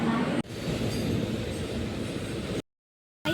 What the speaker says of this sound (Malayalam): അപ്പോൾ ഈ ട്രെയിനിൽ കയറിയിട്ടാണ്